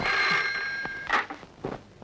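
Telephone ringing in a tense indoor scene from a Hindi-dubbed action movie, a couple of short bright electronic ring bursts with a brief pause between them, fairly clear and not talked over.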